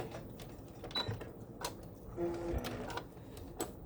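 A sewing machine stitches a quarter-inch patchwork seam in short, faint mechanical bursts separated by brief pauses, with no talking.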